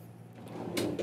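A supply drawer in a paramedic ambulance slides open, a short scraping rattle with light clatter of contents, close by and without speech.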